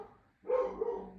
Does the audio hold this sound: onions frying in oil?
no